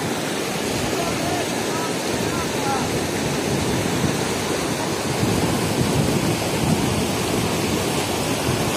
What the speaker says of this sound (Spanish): el río está fuerte